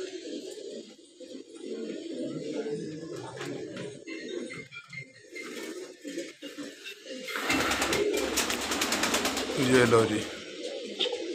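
Pigeons kept at a home loft coo softly in low, repeated murmurs, while someone speaks over them and a louder rustling burst comes near the end.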